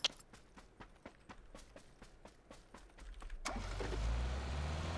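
A car in the video game PUBG starts up and drives off, its engine swelling into a steady rumble after a run of quick tapping footsteps.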